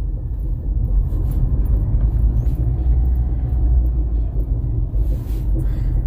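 Rear of an older car producing a rubbing noise, suspected to be a dragging brake, heard as a continuous low rumble and friction drone under road noise while driving, steady and fairly loud throughout.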